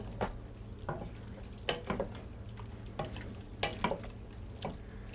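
Shredded Parmesan and chopped fresh parsley get stirred into a pasta and bean mixture, heard as soft repeated scraping strokes and dull knocks against the pot, fairly quiet and close.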